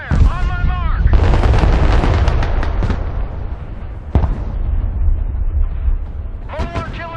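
Heavy, sustained booming fire and explosions from mobile artillery in the military strategy game Broken Arrow, a dense rumbling barrage with a sharp crack midway, under radio-style voice lines.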